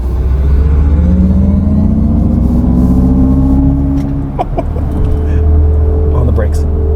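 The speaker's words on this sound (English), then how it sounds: "let's put it in sport like we are now and we'll pin it and listen to this magical sound." Synthetic acceleration sound from a 2023 Mercedes-Benz EQS SUV pushed hard in sport mode, a rising futuristic whir over low road rumble, ending with a few sharp knocks; close and loud, with no clear talk.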